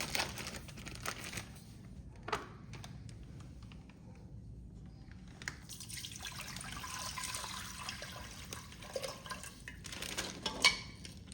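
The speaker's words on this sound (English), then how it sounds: "now we're gonna drain it to this big pot of water" Reef tank water drains into a big pot, a quiet, irregular trickling and splashing broken by crinkling bag sounds and brief knocks, rising into denser gurgling toward the end.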